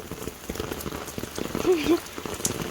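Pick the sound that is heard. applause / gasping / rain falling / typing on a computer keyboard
rain falling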